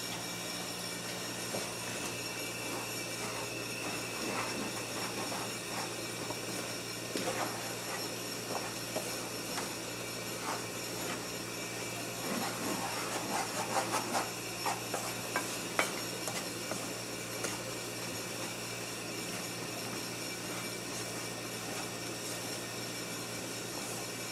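Wheat flour being stirred into annatto in a pan makes soft, intermittent scraping and tapping over a faint steady background hum, fairly quiet, with no talking.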